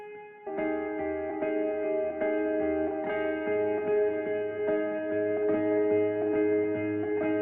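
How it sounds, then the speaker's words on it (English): Sustained synth tones processed with delay and reverb, with repeating echoing notes and a wash of reverb, each note trailing into the next. "A little delay,"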